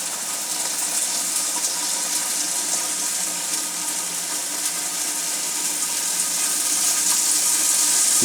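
Popcorn kernels sizzle in a West Bend popcorn popper, a continuous hissing crackle that holds steady and grows slightly louder toward the end, close by with no talking.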